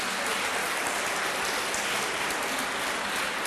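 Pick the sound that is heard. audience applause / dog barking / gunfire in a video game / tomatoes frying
audience applause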